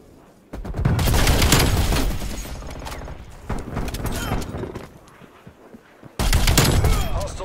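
Rapid-fire bursts from a modded PS5 controller in Call of Duty: Cold War, loud dense rattling gunfire in long volleys with a brief lull mid-way, then another hard burst near the end.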